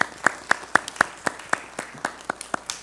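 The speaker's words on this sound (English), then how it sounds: "So can we give Chief Brown a round of applause?" A board of education meeting audience applauding Chief Brown, a sparse, rhythmic round of claps at a steady pace, moderately close and fading slightly toward the end.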